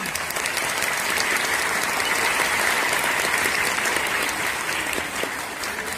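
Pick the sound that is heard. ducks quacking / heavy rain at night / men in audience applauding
men in audience applauding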